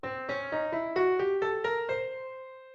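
Piano plays a steady run of about eight notes alternating whole and half steps, an octatonic scale, the last note ringing out alone.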